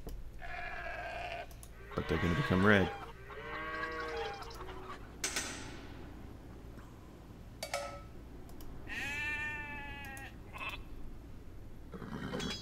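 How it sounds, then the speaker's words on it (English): Sheep in the video game Age of Empires II bleat in several separate wavering calls scattered over soft game ambience, with someone briefly talking. "You found those sheep again, great."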